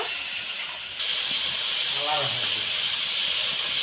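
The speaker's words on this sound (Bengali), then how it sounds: "এই লবণটা দিয়ে আমি ভালো করে মশলাটা কষিয়ে নেব" Spice masala with water and salt sizzles and hisses steadily in a pan while cooking a Bengali dhokar dalna, a continuous frying sound with a brief voice partway through.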